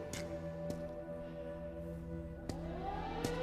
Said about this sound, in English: Oh my God, the siren.